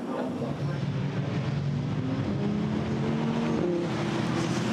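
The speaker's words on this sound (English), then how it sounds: "Pace car accelerates away" A pace car at Zandvoort during a GT4 European Series race accelerates away, its engine note climbing steadily in pitch over a continuous roar of track noise.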